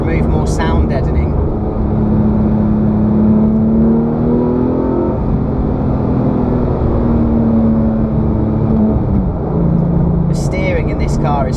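Porsche 997.2 GT3 RS engine droning loudly inside the cabin with reduced sound deadening, steady with shifting pitch, while someone talks over it.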